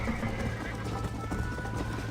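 Horse hooves clip-clopping at a steady run in the Red Dead Redemption video game, a dense rhythmic patter with a whinny-like tone, loud and continuous throughout under the game's ambient sound.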